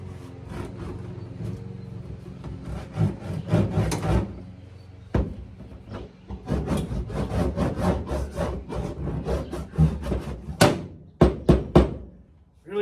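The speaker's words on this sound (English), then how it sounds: "there's different size rollers, so I'm going to get a narrower one and go down through the centers." A hand roller presses sound deadening mat onto the floor of a 1972 VW Super Beetle, making repeated close rubbing, scraping strokes with soft thunks and brief pauses between passes.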